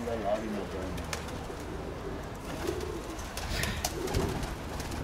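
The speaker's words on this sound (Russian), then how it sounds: "раньше армяне привозили вот этих голубей, вот этих, в Краснодар очень много" Armenian fighting pigeons coo in soft, low, rolling calls at close range, with a faint voice murmuring in the background.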